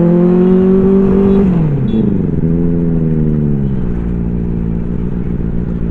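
A Benelli 600i motorcycle fitted with an Ixill exhaust revs close and loud, its engine note climbing, dropping back, then settling into a steady, rumbling idle.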